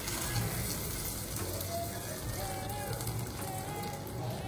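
Dry fruit pieces frying in butter or ghee in a pan give a steady, close, even sizzle throughout, with a faint hint of voice underneath.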